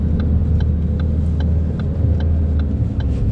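Manual stick-shift car driving along and changing into second gear, a steady low engine rumble filling the clip with faint regular ticking above it, with no talking.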